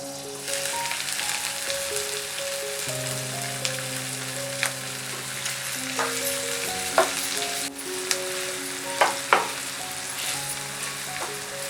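Baby corn being double-fried in hot oil gives a steady, close sizzle, with occasional sharp clinks and scrapes from stirring and no speech.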